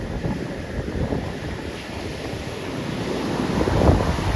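Stormy sea waves surge and splash near a seaside temple, a loud continuous roar of surf mixed with heavy wind buffeting the microphone, swelling toward the end.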